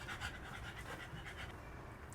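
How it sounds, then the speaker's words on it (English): A dog pants steadily after running around with the zoomies, a soft rapid breathy rhythm running through the whole stretch at moderate distance, with no talking over it. "So he is doing a lot of panting in the background, if you can hear him."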